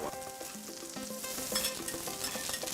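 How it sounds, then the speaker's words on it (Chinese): Vegetarian shark-fin stir-fry sizzles on an iron griddle at a Chaozhou eatery while a spatula scrapes hard against the metal, with busy kitchen clatter close by. "煎的时候刮铲一定要用力，就是贴着那个铁板，用力的铲上来，它才不会粘锅。"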